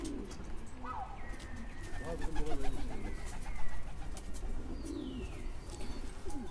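Released pigeons coo softly and steadily nearby, with scattered chirps and a faint murmur of voices in the background.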